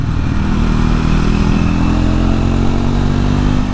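A Triumph Scrambler 400 X motorcycle engine idles and rumbles steadily with a loud, continuous low exhaust note, close up, with no voices.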